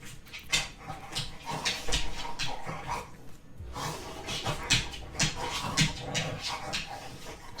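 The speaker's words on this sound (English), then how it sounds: "Excuse the noise in the background as Duke rubs his face on the couch behind me" A dog rubs its face against a couch indoors, producing close, repeated rustling and scuffing bursts mixed with panting and snuffling.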